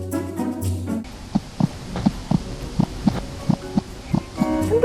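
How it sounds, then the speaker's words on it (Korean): Heartbeat-like thumping coming from a phone pulses about ten times in an even, quick rhythm, soft and close, after a stretch of other sound at the start. "심장 뛰는 소리처럼 들리는데요?"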